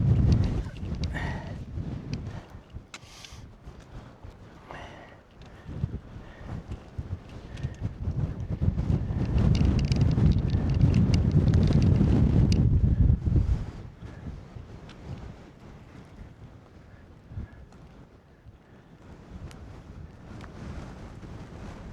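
Strong wind gusts buffet the microphone beside a mountain tarn on a high fell, a steady roar that swells to its loudest in the middle, then eases back to a lighter rush.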